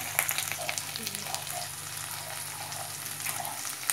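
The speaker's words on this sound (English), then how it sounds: "I'm dropping in my bay leaves, my cardamom, cloves, Javitri," Whole spices (bay leaves, cardamom, cloves, mace, peppercorns and a cinnamon stick) crackle in hot oil for a Hyderabadi mutton curry, a steady close sizzle with scattered small pops over a low hum.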